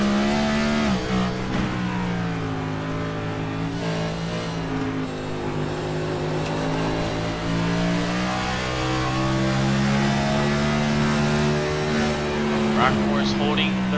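On-board engine of the 05 race car in a racing video game at Sonoma, a steady high-revving drone climbing and dropping through gear changes, with commentators talking over it throughout.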